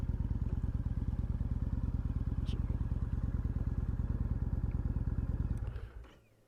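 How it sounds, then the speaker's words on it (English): A Harley-Davidson motorcycle engine idles nearby with a steady low rapid thumping pulse that holds even for several seconds, then fades away at the end. "Hey, check this Harley out."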